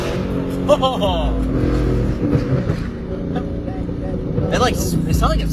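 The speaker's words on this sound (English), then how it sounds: "Spun the tires." A car accelerates hard, its engine roaring loudly and steadily from inside the cabin as the tires spin, with people chatting over the engine noise.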